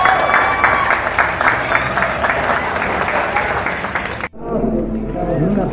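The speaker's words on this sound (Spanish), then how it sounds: "nos despedimos juntamente con un aplauso" A studio audience at a musical television programme breaks into loud, dense applause with crowd noise, then it cuts abruptly and voices continue over a quieter background.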